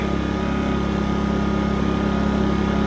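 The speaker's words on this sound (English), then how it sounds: "a really smooth running engine" A small engine with about 385 running hours idles steadily on alcohol fuel, a smooth continuous drone with a faint flutter, close and loud throughout with no talk.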